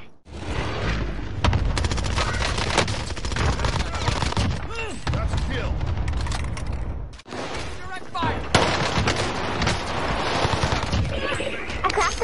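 Dense rapid gunfire from a video game, bursts of shots layered thick over loud game audio, with a short break midway before more firing resumes; a player talks over it.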